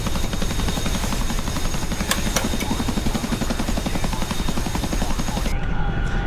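A Chinook twin-rotor helicopter in the DCS flight game, a steady loud rotor chop with throbbing blade beats and engine whine running continuously and close, with a few brief metallic ticks along the way.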